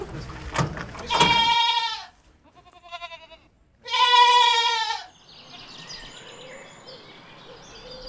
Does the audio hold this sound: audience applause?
no